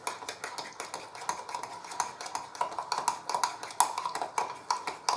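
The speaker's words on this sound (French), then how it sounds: "Alors, compote et purée d'amande et bien mélangé" A spoon stirs compote and almond purée in a bowl, giving a rapid, steady run of ringing clinks and scrapes against the bowl, close and fairly regular, with no talk.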